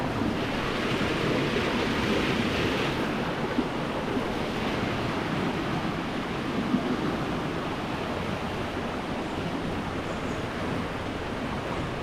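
Floodwater rushes in Gampaha, Sri Lanka, a loud, continuous broadband roar of moving water that stays steady throughout, with no talking.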